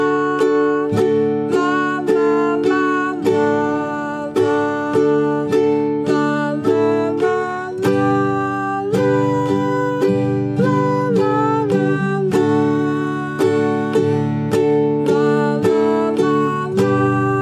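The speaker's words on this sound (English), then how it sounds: "now we're going to do what I call the Lalas with the real strum" An acoustic guitar is strummed in a steady rhythm while a voice sings a wordless la-la melody over the chords, close and clear.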